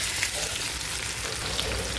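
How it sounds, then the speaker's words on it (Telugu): Marinated chicken hitting browned onions in hot oil for a garlic chicken fry, giving a steady, dense sizzle that stays loud and even from start to finish with no talking. "ఇప్పుడు ఇందులోకి ముందుగా మసాలాలు వేసి పెట్టుకున్న చికెన్ని వేసేసుకోవాలి."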